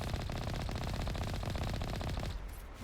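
Sustained rapid automatic fire from a Geth turret in the video game Mass Effect, loud and continuous for nearly three seconds, then cutting off abruptly, with no talking.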